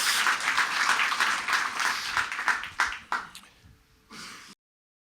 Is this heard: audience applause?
yes